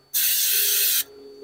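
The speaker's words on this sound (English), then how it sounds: "I'm gonna hit it with a little olive oil this time here. Spray the top down" Olive oil sprayed from a pump or aerosol onto Detroit-style deep dish pizza dough in a pan: one loud, steady hiss lasting just under a second, close up, with no talk.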